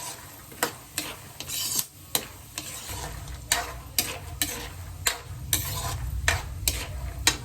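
A spoon stirs and scrapes food around a hot cooking pan, giving repeated sharp clacks and scrapes in a steady rhythm over a continuous low sizzle, close and fairly loud.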